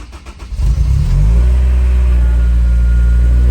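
A Honda S2000 is started with the clutch pedal pressed in. A short crank builds into a loud, close engine catch, then a steady, deep idle. No one speaks.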